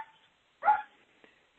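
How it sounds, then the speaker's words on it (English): A neighbor's dog gives a single short bark, fairly faint and distant, followed by a few quieter faint sounds in an otherwise quiet room. "that's the neighbor's dog"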